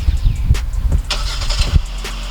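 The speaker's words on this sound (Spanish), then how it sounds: "Presionando este botón casi desde el centro podemos encender el motor a distancia" A 2022 Kia Sorento's engine starts by remote key, with a loud close crank and catch that settles into a steady idle rumble.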